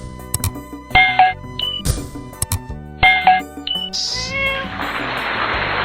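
A cat meows several times in short, close, fairly loud calls, mixed with background music chimes and a soft hiss near the end.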